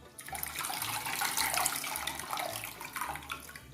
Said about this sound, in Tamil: இப்ப கரைச்ச புளி தண்ணிய இதுல வடிகட்டி அப்படியே ஊத்துங்க